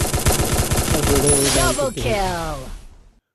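A rapid automatic gunfire burst rattles loud and close in the Free Fire battle game, then gives way to a ringing, tonal game effect that fades out.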